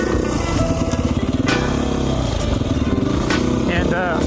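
A 2019 Beta 500 RR-S dual sport motorcycle engine idles and runs with a choked, pulsing thump, close and loud, with light clattering over the steady beat.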